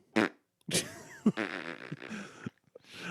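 An armpit fart is squeezed out against a snare drum, giving a string of short, close, sputtering blasts with rattly buzz and brief pauses between them, without speech.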